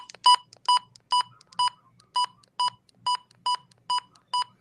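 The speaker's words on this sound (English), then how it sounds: "set beep is when you push a button on it and it beeps" Midland HH54VP handheld weather radio giving ten short, evenly spaced electronic beeps, one per button press, close and clear with no talk.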